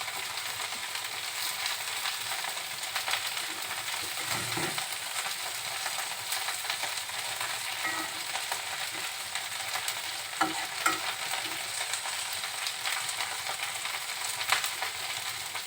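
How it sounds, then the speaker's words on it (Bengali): Rohu fish pieces simmer and fry in mustard oil sauce in a pan, giving a steady soft sizzle with occasional stirring scrapes throughout, no voices. "এভাবে মাছটার উপরে যখন তেল উঠতে শুরু করবে তখন মনে করবেন মাছটা হয়ে গিয়েছে"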